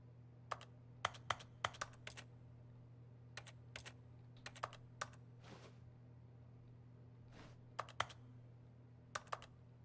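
Clicky keyboard typing from The Stanley Parable, irregular bursts of sharp key presses over a low steady hum, quiet and close.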